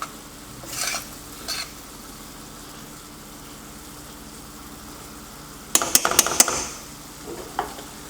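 Pork lo mein vegetables with bok choy and celery being stir-fried in a pan: a low steady sizzle broken by a few short scrapes early on and a louder clatter of stirring toward the end.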